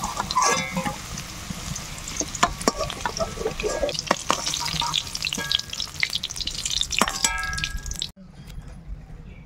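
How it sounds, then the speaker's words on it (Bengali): Pieces of taro (kochu) fry in hot oil in a pan, a dense steady sizzle broken by scraping stirs and light clatters, close up and without talk, dropping away abruptly near the end. "কচুগুলো লাল লাল করে ভেজে নিলাম"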